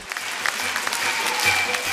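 Concert audience in Cherkasy applauding a symphony orchestra after a performance of world hits, a dense, steady wash of many hands clapping throughout, fairly loud and close.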